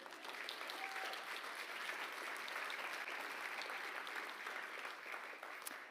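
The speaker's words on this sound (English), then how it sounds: "I think that deserves a round of applause as well" Sustained applause from a sizeable audience at a startup showcase, many hands clapping evenly and densely for several seconds with no talking over it.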